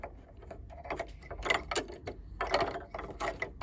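Small screws being driven back into a sewing machine after cleaning out dust, giving a close series of light ratcheting clicks and metallic ticks with no talking.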